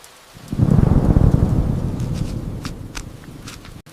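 Thunder rumbles in loudly and close, then slowly fades over steady rain, with a few scattered drips and taps on nearby surfaces.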